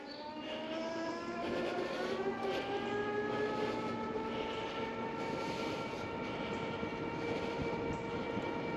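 DYU C2 folding electric bike riding on throttle only, a steady rising whine of the hub motor with layered tonal harmonics over road and wind noise, close and continuous.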